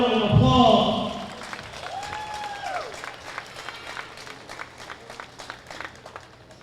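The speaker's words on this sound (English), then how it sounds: "Y'all give him a round of applause" After a kickboxing main event, a loud burst of voices and cheering gives way to scattered applause and claps that thin out, with talk and noise from the venue underneath.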